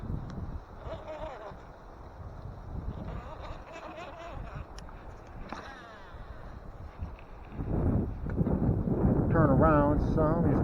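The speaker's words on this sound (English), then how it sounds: "It is really windy out here." Wind buffets the microphone in low rumbling gusts that swell louder near the end while fishing outdoors, with a person talking and chuckling underneath.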